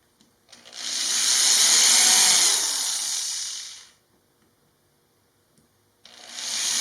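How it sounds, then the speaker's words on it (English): Power drill pre-drilling holes while a mobile router table is built, one bright whining burst of about three seconds that winds down, then silence before another burst begins. "and then pre-drill them."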